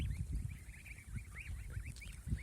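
A flock of about 136 young goslings, domestic geese, peep and call over and over in high, overlapping chirps, with a low rumbling background underneath.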